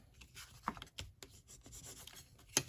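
A fingernail rubs and scratches along tape to press it flat on paper, making faint, close, intermittent scraping strokes with a louder scrape at the end.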